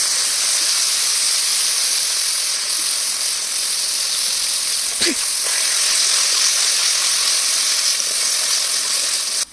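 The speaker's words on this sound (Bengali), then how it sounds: "এখানে নিয়ে নিচ্ছি 100 গ্রাম টক দই দিয়ে একসাথে সুন্দর করে কষিয়ে নেব মশলাগুলো।" Spices and sour yogurt (about 100 g) cooking down together in a pan, a steady, dense sizzle and hiss that runs unbroken and fairly loud for the whole stretch, with one brief sharper crackle midway.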